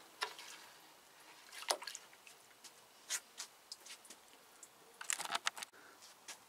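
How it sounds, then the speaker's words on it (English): A plant dropped into a container of bleach brings faint, close drips and small wet splashes, scattered irregularly with a few quiet clustered patters and soft handling noises. "Get your plant, drop it in the bleach."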